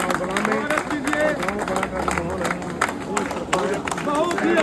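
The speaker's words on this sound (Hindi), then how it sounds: "आप भी तालियों के साथ स्वागत कीजिए।" Outdoor crowd at a village welcome for Congress leader Surender Narwal in Balla, Assand, clapping steadily and continuously through a dense layer of voices and chatter.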